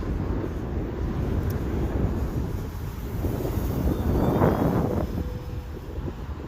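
Steady gusty wind roars across the microphone while the electric motor and propeller of an FMS P-47 Razorback model airplane, 1500mm wingspan, hums faintly, swelling briefly as it passes closer.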